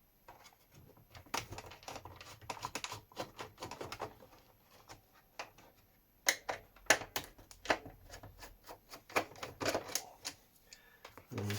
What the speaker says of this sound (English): So the simplest way to do it is to remove all these little torque screws from along the top.